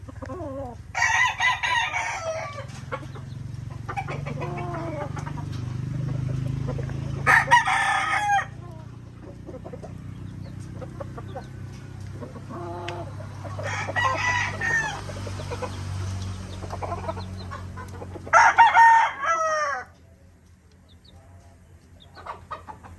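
Several Talisayang gold broodcock gamefowl roosters crow in bursts at a farm, loud nearby calls repeating across the span over a low background hum, with some faint clucking between crows.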